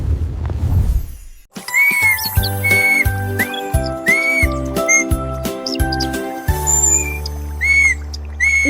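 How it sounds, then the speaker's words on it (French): A bright whistled tune with gliding, bird-like phrases repeats over a steady musical backing, starting after a brief noisy opening. "Le caneton a commencé à essayer des mélodies sifflantes, atteignant le ciel."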